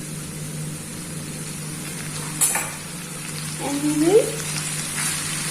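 Vegetables for soya chunks sabzi sizzling and being stirred in a hot pan with oil, garam masala, soy sauce, ketchup and garlic powder, a steady close frying hiss with a few scraping stirs, under brief talk.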